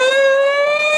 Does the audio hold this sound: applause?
no